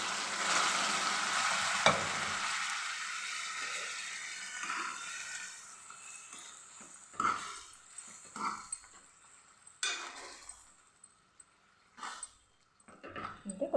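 Boiled potato and tomato curry tipped onto onions in a pan and stirred, a steady sizzle with scraping stir strokes and clunks that fade toward intermittent spoon knocks, no talking.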